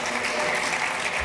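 An audience at a local festival show applauds in a dense, steady wash of many hands clapping together, loud and continuous throughout the short stretch.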